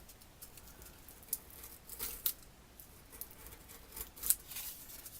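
Snips cut through a corrugated steel sheet in a series of faint, irregular crisp clicks and scrapes, spaced a second or so apart, with no talking.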